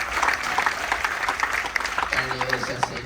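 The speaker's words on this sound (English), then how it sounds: "Give a round of applause for Beirut." Passengers on a Carnival Dream cruise ship clap for a veteran who served in Beirut, a short burst of close crowd clapping with voices talking over it.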